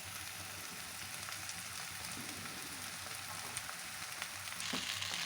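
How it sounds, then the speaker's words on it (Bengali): Chow mein noodles with a few vegetables sizzle and fry steadily in a hot pan, a constant low crackle with slight rustling as they settle, fairly quiet and unbroken by talk. "এবার চাউমিন দিয়ে দেবো।"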